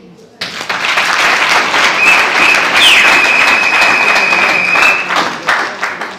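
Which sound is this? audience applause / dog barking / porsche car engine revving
audience applause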